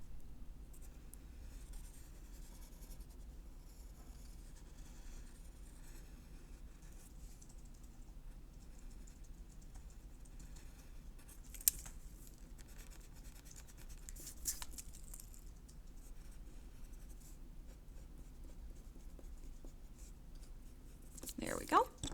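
Faint scratching and rubbing of a drawing tool colouring in a picture, soft strokes over a quiet background, with a few louder taps and scrapes near the end.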